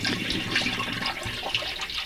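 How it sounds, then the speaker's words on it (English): Antifreeze pouring into the head's sink on a 1936 wooden boat during winterizing, a steady splashing, gurgling flow of liquid heard close up without pause. "what I'm going to do is simply pour antifreeze in the sink"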